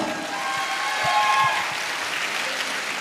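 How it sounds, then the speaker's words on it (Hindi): Audience at a motivational business talk giving a loud round of applause for the speaker's team, dense steady clapping filling the moment, with faint voices or tones underneath. "तो दोस्त आप सभी के लिए एक बार जोरदार तालियां।"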